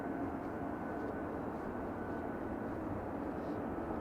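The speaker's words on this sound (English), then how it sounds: "coming into land is an ITA Airways. So let's have a look. It's an Airbus A320-200." An ITA Airways Airbus A320-200 arriving from Milan on its landing approach gives a steady, broad engine roar that holds at an even, moderate loudness throughout, with no talk.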